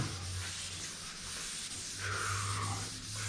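Dry and then wet sanding of a surface with 320 and 400 grit paper, a continuous close rubbing hiss with steady rhythm and a low hum underneath, no talking.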